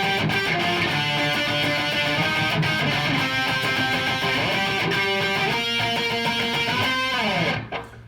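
Guitar octaves ringing over the full intro of a song, a sustained, dense, loud wash with drums underneath, cutting off abruptly at the end.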